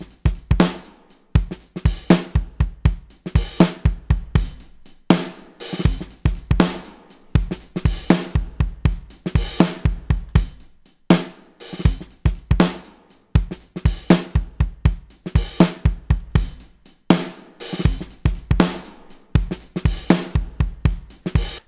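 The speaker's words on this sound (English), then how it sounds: "I'm going to use the bypass switch to switch between the original signal and the compressed signal." Drum kit routed through a Distressor compressor, with the bypass switched on and off. Punchy kick and snare hits repeat in a steady groove, with short breaks between passes, and no voices.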